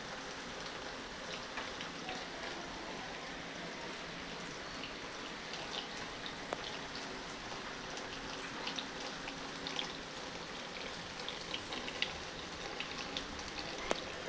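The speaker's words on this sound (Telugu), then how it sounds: "వర్షం పడుతుంది" Rain falls steadily on surfaces in a rural village, a soft, continuous hiss of patter with scattered drips and tiny splashes rising now and then, with no voices.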